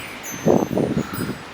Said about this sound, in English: Oh, here comes a wind gust.